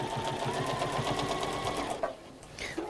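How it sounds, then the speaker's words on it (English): Sewing machine running steadily at close range, stitching down the folded side of fabric, with a rapid, even mechanical rhythm that stops near the end, followed by a couple of small clicks. "Sew down the side that's got the fold encased in it."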